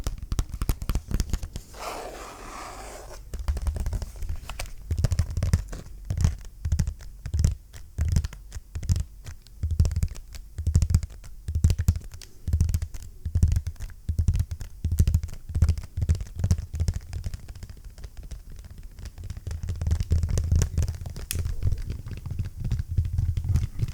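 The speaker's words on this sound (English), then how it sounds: "And it makes very good tapping sounds" Fingers tapping and scratching on the back side of an old, very large Logitech computer keyboard, a steady close rhythm of soft knocks with scraping texture running throughout, no voices.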